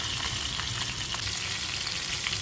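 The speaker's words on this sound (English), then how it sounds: "when the oil is hot, we will place the fish pieces one by one" Pabda fish pieces sizzle in hot oil in a flat karhai over a medium flame, a dense, steady, close frying hiss with no talk.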